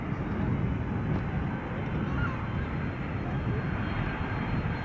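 Delta Airlines Airbus A330-300 jet airliner arriving at Amsterdam Schiphol Airport, a steady, fairly loud engine roar and rushing drone that holds for several seconds, with no talk over it.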